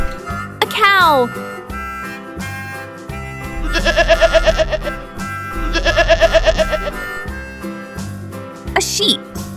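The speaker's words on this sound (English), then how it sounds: "A sheep!" A toy farm-animal puzzle bus plays a sheep's bleat, two wavering, quavering calls at moderate loudness, with short toy sound effects and a bright voice at the start and end.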